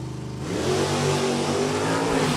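1970 Plymouth Cuda with a 440 engine, a Super F automatic drag car at Maple Grove Raceway, roars up hard from a lower idle into a loud sustained rising wail, close and dominant with no talk.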